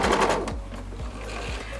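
A sewing machine stitches through pillowcase fabric made from a sheet, running fast and steady with a regular mechanical rhythm and repeated clunks, close up and without talk.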